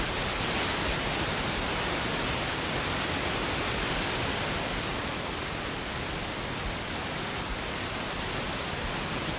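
A Canadian waterfall pours with force against rock, a dense, steady roar that stays constant and loud throughout, with no break or voices.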